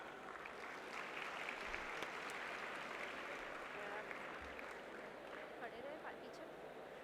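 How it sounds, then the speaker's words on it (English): A crowd claps steadily in sustained applause, a dense even patter of hands lasting several seconds without pause. "A huge round of applause."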